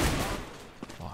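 A gunshot in Counter-Strike on the map Train during a competitive esports match scores a headshot; a short sharp report lands amid ongoing game noise and faint crowd or caster ambience.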